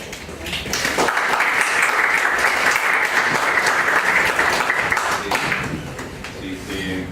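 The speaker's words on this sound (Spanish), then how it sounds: "Damos la fuerte aplauso y la bienvenida al colega Pedro" An audience at an evening lecture on water quality in Peru bursts into strong applause to welcome a speaker, a sustained dense roar of clapping that swells, holds for several seconds, then fades as voices return.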